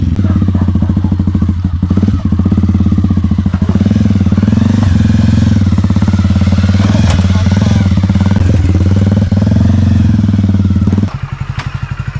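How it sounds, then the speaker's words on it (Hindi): A Hero Splendor motorcycle engine runs steadily up close, a loud low throbbing idle with some clattering, cutting down near the end. "तो गाइस स्टार्ट हो गई है बाइक।"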